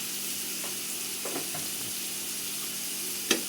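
Ground coriander and cumin spice paste frying in a pan for prawn do-pyaza, a soft steady sizzle with faint scraping stirs and one sharp clatter of the utensil near the end.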